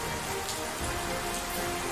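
Steady rain falls on surfaces in a children's railway story scene, a constant hiss of drops filling the whole stretch with no break and no voices.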